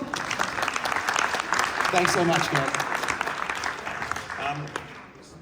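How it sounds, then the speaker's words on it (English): A conference audience claps steadily throughout, with a person speaking briefly over the applause before it tapers off near the end. "Everyone, a round of applause"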